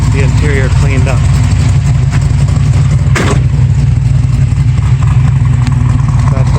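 A 1980 Z28 with a 421 cubic inch small block stroker idles steadily, its deep, rumbling, loping note close and loud throughout, with one brief sharp burst midway.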